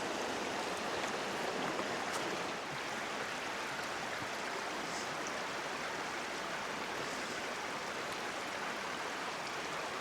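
Indian Creek in an Indiana state park rushes steadily, a constant broadband wash of flowing water with no pauses or voices.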